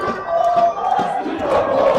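Rugby club crowd at a Super League A match on Florida Park roars and cheers continuously, loud and sustained with shouts rising over the din.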